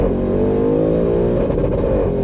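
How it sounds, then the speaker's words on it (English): A 788hp Audi RS6 engine held at high revs and pushed into the rev limiter at the Nürburgring; loud and close, a sustained strained roar with a brief stuttering flutter near the end. "We're gonna deliberately hit the rev limiter, see if the issue is solved this time."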